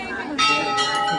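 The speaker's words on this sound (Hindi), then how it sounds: "ये देखो घंटी" A temple bell rings at Kainchi Dham with two or three bright metallic strikes ringing close and clear over a crowded, murmuring background with voices.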